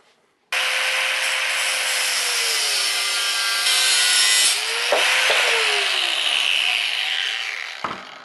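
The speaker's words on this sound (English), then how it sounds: "I'm going to do the John Hines thing with my angle grinder." A loud, steady metal-cutting whine from an angle grinder grinding steel starts abruptly and runs continuously, its pitch dipping and rising as the tool bites, then stops with a sharp clunk.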